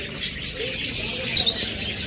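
Small pet birds such as lovebirds, cockatiels, budgerigars and finches, including red-eyed fallow birds, keep up a dense, continuous chatter of high chirps and tweets, close by and steady throughout with no speech.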